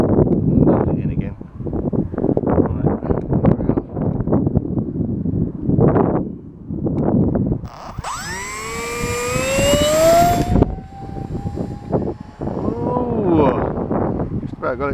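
An RC Hyper Shark plane on a 6S battery with a 5x5 prop screams past in windy conditions, a rising and falling whine that swells for a few seconds mid-clip, with wind noise and speech around it.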